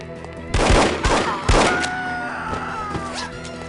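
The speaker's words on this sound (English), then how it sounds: "I thought I heard gunshots." Three loud gunshots in the video game No One Lives Forever ring out about half a second apart, then a tonal ringing and fainter background noise as the echoes fade.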